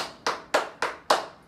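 Four crisp hand claps ring out at an even, steady pace during a tap dance exercise, each sharp and close with a short decay, with no other sound between them.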